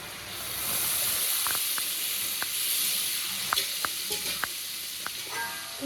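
Water poured into a pan of frying pointed gourd and prawns sets off a loud, steady steamy sizzle and hiss, broken by scattered sharp crackles and pops.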